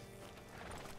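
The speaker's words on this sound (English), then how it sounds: "Hitch your horse up here." Horse hooves clip-clop with a brief whinny in the video game Red Dead Redemption 2, fairly close and steady, with no talking over it.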